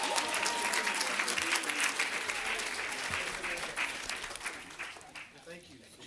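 Loud, sustained crowd applause at an employee service awards ceremony, a thick wash of many clapping hands with a hint of crowd noise, easing slightly in the final second.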